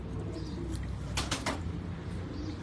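Pigeons held in the hand give soft cooing, with a short burst of louder, fluttery sound near the middle over a low, steady background hum; no talking.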